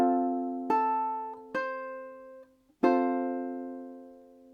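Ukulele fingerpicking a measure of a song, ending with all four strings plucked together; a few clear, ringing plucked notes spaced about a second apart, close and alone, with the final chord decaying slowly.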